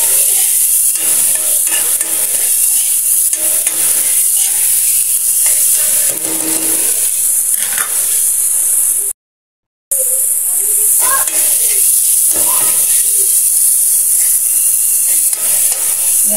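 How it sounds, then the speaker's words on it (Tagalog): Tomatoes sautéing in oil in a pan, a steady bright sizzle running throughout, with stirring scrapes and someone talking over it; a brief silent gap occurs midway. "Igisa natin itong kamatis hanggang sa malusaw siya."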